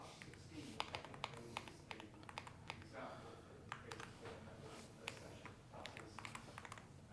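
Fast, faint computer keyboard typing while setting up a JavaScript end-to-end test, sharp clicks in an uneven run over a soft background hum, with a voice speaking now and then.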